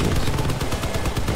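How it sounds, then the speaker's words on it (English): A machine gun in the vehicle combat game Crossout fires a rapid, loud, continuous burst of evenly spaced shots that fills the whole stretch. "That I built, I have a machine gun."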